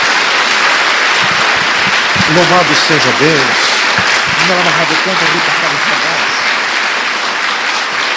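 A church congregation applauds Jesus during a sermon. The clapping is steady and dense throughout, with a voice speaking over it for a few seconds in the middle.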